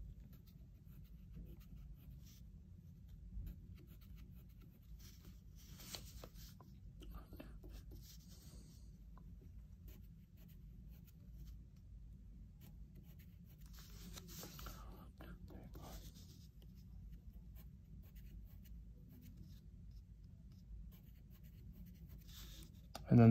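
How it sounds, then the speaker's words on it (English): Pencil drawing lines on paper for shelf working drawings, faint scratchy strokes in several bursts with soft whispered speech over them. "Put my pencil where I want to draw."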